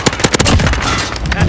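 Rapid automatic gunfire bursts from the video game Call of Duty: Modern Warfare, loud and dense, with sharp repeated shots at the start blending into a continuous roar of firing and explosions.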